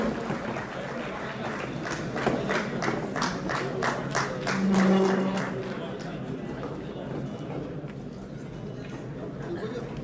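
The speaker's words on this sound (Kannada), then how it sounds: "ಜೋರಾದ ಚಪ್ಪಾಳೆ ಬರಲಿ ಮಾಧ್ಯಮದ ಸ್ನೇಹಿತರಿಗಾಗಿ" Applause for media friends at a government event in Belagavi's Suvarna Soudha, where kits are being handed out: a crowd clapping steadily and fairly loudly for several seconds, then thinning out, with crowd chatter and a voice underneath.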